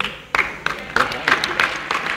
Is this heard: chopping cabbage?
no